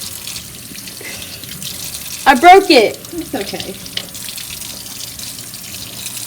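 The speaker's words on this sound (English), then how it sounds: "we're just going to run it under the sink water" Kitchen sink tap water briefly splashes over a bowl for about a second, loud and close, then trails off into quieter drips and handling noise; a voice speaks briefly.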